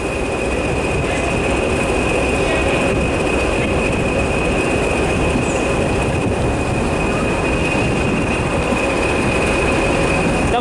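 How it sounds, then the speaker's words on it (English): A Class 170 diesel train, unit 170112, departs platform 4 at Derby station with a loud, steady roar of engine and wheels on rail and a thin squealing tone held throughout, close by. "17112, now departing for Cardiff Central from Nottingham."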